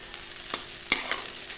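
Maggi noodles with masala get stirred in a pan: a few quick scraping clicks of a utensil over a soft, faint sizzle, close and brief.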